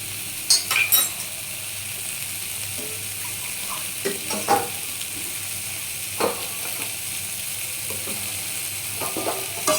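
Soybean curry cooking down in a pan, a soft continuous sizzle broken by irregular scrapes and clinks of a spoon stirring the spiced mixture close by.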